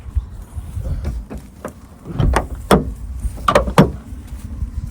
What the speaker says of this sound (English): I'm also going to close this door again.